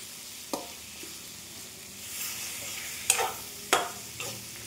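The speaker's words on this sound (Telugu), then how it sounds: "ఇప్పుడు లాస్ట్లో ఈ టమాటాలు వేసుకుంటున్నాను" Tomatoes going into a hot pan of spiced oil for a vegetable pulav, with a soft steady sizzle and a few sharp stirring scrapes and clatters spaced across the moment.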